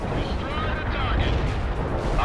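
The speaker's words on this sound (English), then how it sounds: "All units fire at will" Massed weapons fire from units in the World in Conflict: Soviet Assault strategy game, a dense rumbling barrage of distant artillery and gunshots blending into a continuous roar with voices underneath.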